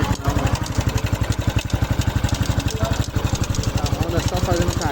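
Engine of a new 2023/24 Honda Pop 110i motorcycle with a suspected mechanical noise, running steadily up close with a fast, even pulsing beat throughout.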